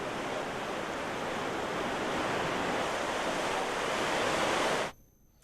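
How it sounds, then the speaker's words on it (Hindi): The flooded Khoh river in Kotdwar, Uttarakhand, swollen by heavy rain, rushes with a loud, constant broadband roar that stops abruptly just before the end. "भारी बारिश के चलते कोटद्वार में खो नदी पूरे उफान पर है"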